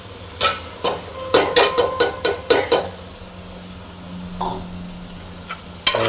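Washed rice and dal toast in a pot for khichdi, heard as a quick series of close metallic scrapes and knocks from a spoon against the pot, then a quieter stretch with a low hum and a last sharp clank.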